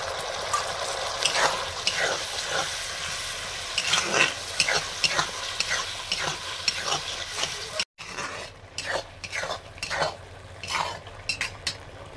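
Spoon scraping and clinking in a pan as green chilli sauce, soy sauce and tomato sauce are stirred into a frying curry, a steady sizzle under repeated metallic strokes with a brief break midway.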